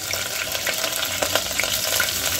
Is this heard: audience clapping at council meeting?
no